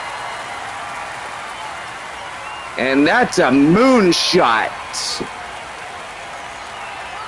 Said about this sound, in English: Boy, make the crowd go crazy tonight here in San Antonio